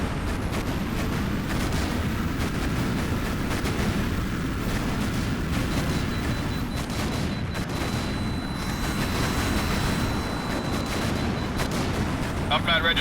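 Combat noise from the jet-fighter video game H.A.W.X. rolls on without a break, with dense gunfire and booming explosions under a loud, steady roar, and radio voices talking over it.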